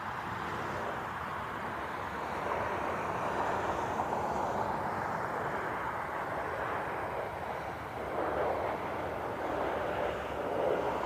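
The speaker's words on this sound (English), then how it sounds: "Southwest landing on the left side." A Southwest airliner landing at Cleveland Hopkins airport gives a broad, steady jet roar that swells slightly and holds, heard from a distance outdoors with no talking.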